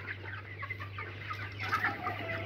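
Broiler chickens, 53 days old, cluck and murmur continuously in a poultry shed. The sound comes from a dense flock and sits over a steady low mechanical hum, with no speech.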